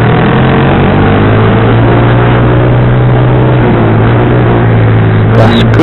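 A motorcycle fitted with a racing exhaust drones loudly and close on a Sunday-morning group ride to Puncak, its engine note holding steady and rising slightly as the throttle opens.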